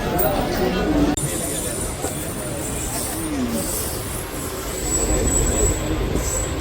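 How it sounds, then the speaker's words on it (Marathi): A fast local train rumbles steadily nearby with a constant broadband roar and occasional high metallic squeals, while a voice talks faintly underneath. "फास्ट ट्रेन भेटली पाहिजे"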